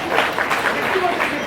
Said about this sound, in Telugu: ఇప్పుడు గట్టిగా చప్పట్లు కొట్టండి ఆయనకి